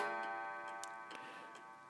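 A Gilbert kitchen clock ticks faintly and steadily, several evenly spaced ticks over a sustained ringing tone that fades slowly, heard close in a quiet room.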